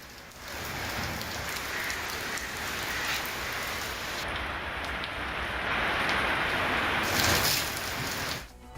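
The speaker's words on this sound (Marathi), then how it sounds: "शहरातील विविध भागांमध्ये जोरदार पावसाची नोंद झालेली आहे" Heavy rain pours steadily over Mumbai, a dense, continuous hiss of drops on surfaces that stays loud and even throughout, with no voices.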